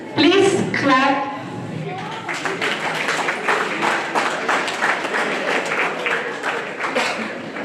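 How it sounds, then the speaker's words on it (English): An audience at a pre-university college graduation day claps steadily and moderately loud after a brief spoken introduction, with scattered individual claps audible in the crowd. "Please clap."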